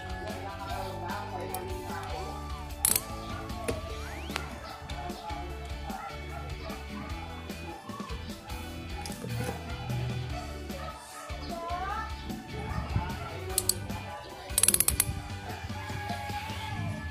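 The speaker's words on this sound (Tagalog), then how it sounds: "Gamit ulit ang 12 mm socket wrench. Igpitan natin itong bolt," A 12 mm socket wrench ratchets against a motorcycle oil drain bolt, with clicking and mechanical rattles spread through the stretch while a dog barks nearby.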